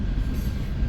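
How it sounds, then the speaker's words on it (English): A train passes about 30 feet away, a loud, steady broadband rumble with dense low-end roar and rail noise throughout, no breaks and no voices. "this is the third train"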